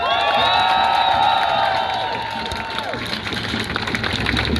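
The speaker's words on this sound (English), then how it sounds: "Let's give a round of applause." A street protest crowd in downtown Los Angeles claps and cheers loudly, with high whoops and shouts riding over a steady roar of applause that continues throughout.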